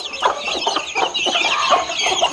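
Hens and chicks cluck and peep close by, a steady stream of short overlapping calls that carries on throughout without any talking.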